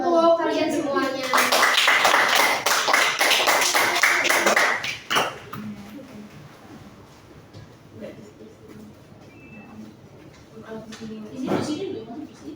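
Students clapping in a classroom after a tie-dye practice lesson: a burst of brisk group applause for a few seconds that stops abruptly, followed by quieter room noise and a teacher talking.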